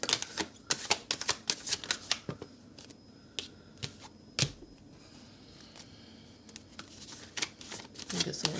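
Tarot cards being shuffled in a quiet room, a run of crisp, close riffling flicks and taps that bunch into busy bursts with a calmer pause in the middle, no talking.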